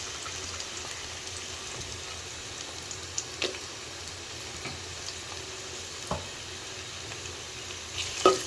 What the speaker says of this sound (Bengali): পেঁয়াজের সাথে মশলাগুলো একটু ভেজে নেবেন স্মেলটা খুব ভালো বের হবে চিকেন রান্নায়